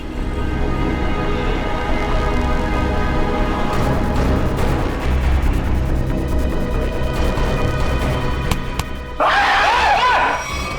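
A man in a crime drama screams in fright over a loud, dense scene with music and rumbling effects, the cry climbing near the end.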